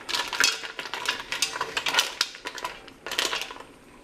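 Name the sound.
gently stirring mussels with wine in a pot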